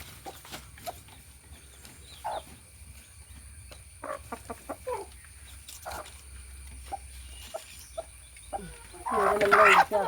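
A large hen with her chicks in a backyard coop: scattered soft clucks and short cheeps close by, with a louder burst of clucking at the end and some quiet talk in between.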